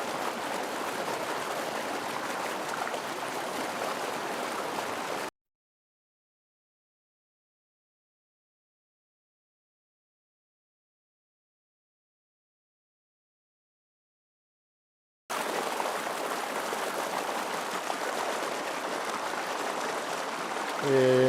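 A spring-fed stream runs through a young tea field with a steady, rushing flow. It is heard at the start and end, separated by about ten seconds of total silence.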